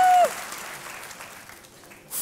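Audience applause in a quiz-show studio, a short burst of clapping at the start that quickly thins to a quieter wash of scattered claps, then swells again briefly at the end.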